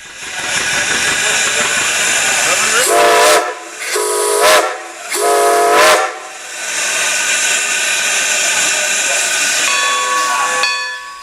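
A steam locomotive whistle on the Strasburg Rail Road shrieks in three long blasts over a steady, loud hiss of venting steam, with the engine's chuffing rumble continuing as the train departs the depot.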